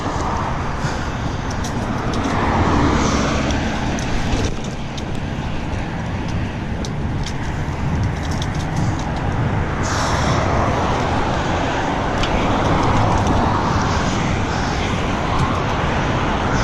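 A car overtaking a cyclist on a road between Carmel and Indianapolis, heard as a steady, loud rush of traffic and wind noise that swells and fades over the whole stretch, with no voice over it.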